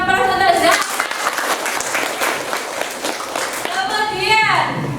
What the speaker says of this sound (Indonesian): Berikan aplaus untuk Zahra.